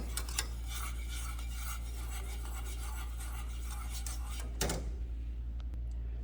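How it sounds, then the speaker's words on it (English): Stone ground grits are stirred in a pot over lowered heat, a soft, steady scraping swish under a constant low hum, with a brief louder clatter near the end. "So we're just going to stir, turn our heat down some, and stir them in just a little at a time."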